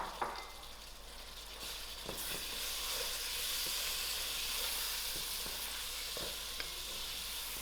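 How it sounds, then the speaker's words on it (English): Drained broad beans frying in a pot for mixed vegetable curry, a steady close sizzle and hiss that swells after a couple of seconds, with a few light stirring knocks and no talk. "I'll allow these broad beans to fry out for about 3 minutes."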